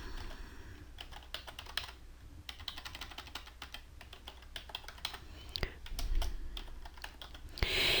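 Typing on a computer keyboard to enter an event name, with rapid irregular keystrokes at close range for most of the stretch and a few louder taps near the end; no talking.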